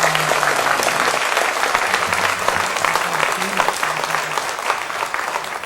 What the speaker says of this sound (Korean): 박수로 하나님께 영광.